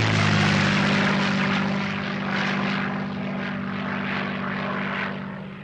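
A Spanish-built propeller fighter plane fitted with an English engine flies past, its steady droning engine loud and close throughout, easing slightly in the second half.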